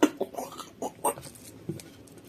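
Thick, pasty rice flour batter with grated zucchini and carrots being stirred by hand, giving faint, irregular sticky squelches and wet slaps spaced unevenly over a couple of seconds, with no talking.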